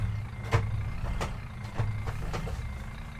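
Busscar Urbanbuss low-floor articulated Volvo bus reversing in the OMSI 2 simulator, with a steady engine drone and repeated reversing beeps sounding at a regular pace.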